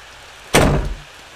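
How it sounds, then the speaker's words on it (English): A door in the horror video game Ao Oni gives a single loud, abrupt bang, a short sliding slam after a quiet lead-in, which rings briefly and fades away. "It's a door."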